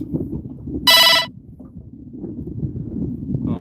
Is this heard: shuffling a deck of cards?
no